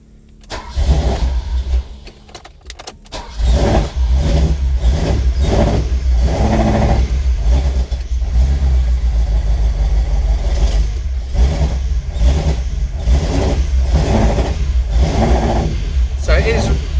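A Ferrari 308 engine cranks briefly, catches and settles into a loud, uneven running note with rhythmic pulsing, as if misfiring on some cylinders, while someone talks over it.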